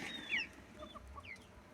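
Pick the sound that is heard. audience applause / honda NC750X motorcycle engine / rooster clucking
rooster clucking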